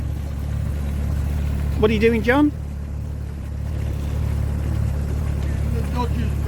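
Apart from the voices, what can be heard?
boat engine running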